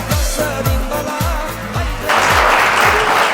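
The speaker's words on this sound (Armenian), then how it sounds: "թող ծափերը ամենաբարձրը հնչեն" Rhythmic clapping from a gathered group in Yerevan, loud and close, with steady repeated claps that swell into a denser burst of applause near the end.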